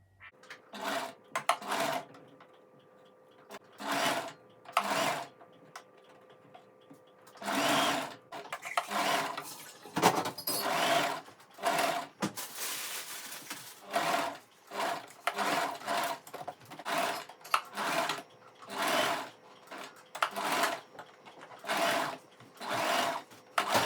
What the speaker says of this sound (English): So this is the last bit of sewing, and then we'll see what it looks like.